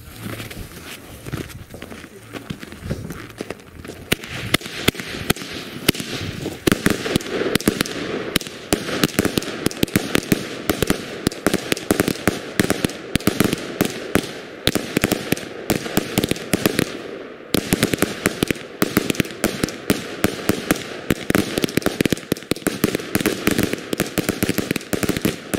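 A 100-shot 20 mm salute firework battery fires a rapid, relentless string of sharp bangs for over twenty seconds, loud crackling pops packed tightly together with a voice briefly underneath.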